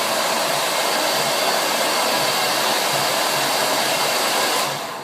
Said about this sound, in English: what I like to do is just blow dry everything down